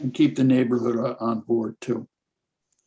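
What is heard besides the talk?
No everyday noises stand out.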